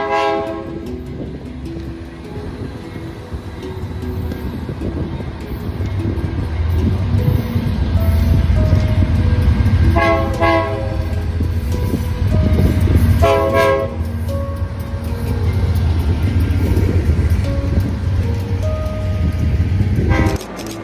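Freight train led by a pair of H2-9 locomotives rumbling close by, with a loud low engine drone building and several long, separate blasts of a multi-tone horn over the passing noise.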